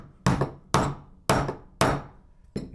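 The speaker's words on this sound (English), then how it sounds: "So go ahead and hammer it down" Four evenly spaced sharp hammer strikes drive a 1/8 inch punch into a Ruger LCP II slide, followed by a fifth, softer tap. Each one is a close, ringing knock with a short decay.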